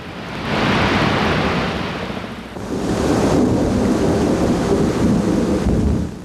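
A thunderstorm with torrential rain roars as a dense, steady downpour, with a deep rumble of thunder swelling midway and continuing under the rain, loud and close.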